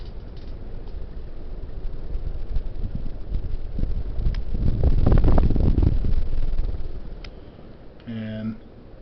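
A Hampton Bay 42-inch Landmark Plus ceiling fan on high speed blows a steady rush of air that swells loudest midway, then eases. A brief voice sounds near the end.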